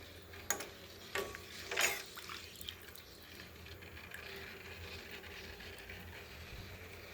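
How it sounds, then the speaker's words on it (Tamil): A quiet, bubbling simmer of fish curry in a pan with a few clinks and stirring sounds early on, then steady soft bubbling. "நல்லா குழம்பு கொதிக்குது பாருங்கள்"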